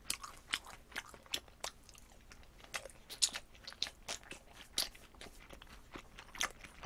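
Crunchy chewing of Korean sweet and sour pork (tangsuyuk) during a chicken and fried-food eating session, with repeated close, sharp crunches and bites in an irregular rhythm, alone with no talking.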